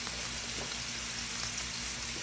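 Steady, even sizzle of homemade beef broth hitting a hot pan of cooking beef, a continuous frying hiss at moderate level with faint pops, no voices.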